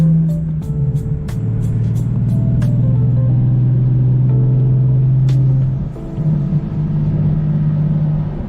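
A car engine rumbles loudly and steadily close by, its pitch rising and holding through a sustained rev before dipping briefly and settling back to a steady drone.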